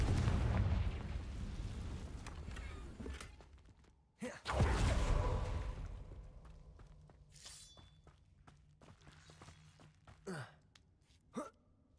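A fiery Confringo spell bursts in Hogwarts Legacy with a loud explosive blast at mid-clip, followed by fading rumble and a few sharp crackling impacts and footsteps.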